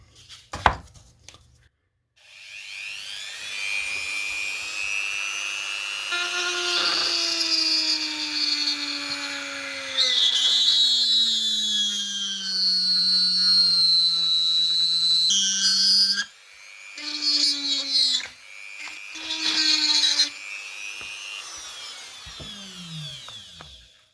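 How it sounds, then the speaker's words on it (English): A Dremel rotary tool cuts around a wheel disc whose tyre is glued to the centre, giving a close, high whine that rises and falls in pitch through several long passes, each broken by short stops. "I'm going to Dremel and see if this disc will come off"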